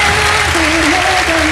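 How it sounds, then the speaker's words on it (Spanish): A live audience at a contest claps loudly and steadily for a contestant at a Valdivia comedy show, with a voice faintly audible under the applause. "Aplausos para la participante número uno"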